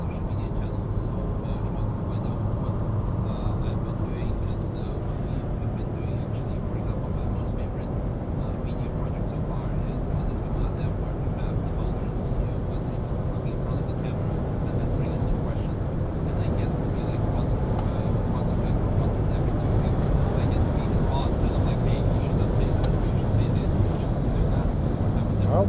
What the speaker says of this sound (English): let's see this all-wheel drive T6 van do its magic and put the power to the ground